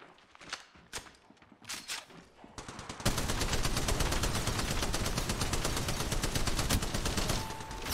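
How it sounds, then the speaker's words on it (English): Gunfire in the mobile game Apex Legends Mobile: a few spaced single shots at first, then a sudden loud, continuous burst of rapid automatic fire that carries on to the end. "They spotted me. I'm taking shots."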